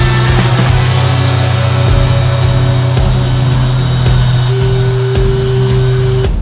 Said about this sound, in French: Enfin, on va poncer et je repasse une deuxième couche.